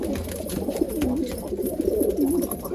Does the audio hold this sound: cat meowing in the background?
no